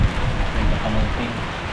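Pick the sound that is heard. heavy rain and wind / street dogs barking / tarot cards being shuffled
heavy rain and wind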